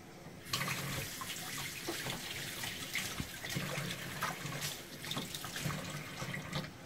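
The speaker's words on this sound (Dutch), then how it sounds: "De sla een beetje uitlekken. Ik doe het water weg." Water drained off freshly washed lettuce into a kitchen sink makes a steady, close splashing stream that runs without a break, with no voices.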